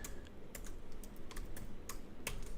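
Quick, uneven keystrokes tapped on a computer keyboard while typing code, close and fairly soft, with short bursts and pauses and no voices.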